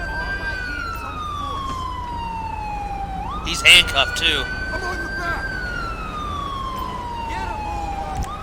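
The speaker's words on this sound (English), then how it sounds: "let me turn my siren off here" A police car siren in the video game LSPDFR wails steadily, its pitch sliding slowly up and down, loud and close, with a brief voice speaking partway through.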